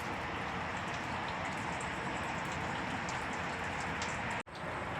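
Light rain in the United States pattering steadily on surfaces, a constant even hiss that cuts out briefly near the end.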